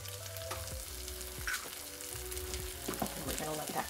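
An egg cracked onto a pile of melting cheese frying in a pan gives a steady, close sizzle, with a few soft clicks and taps of a utensil breaking through the hiss.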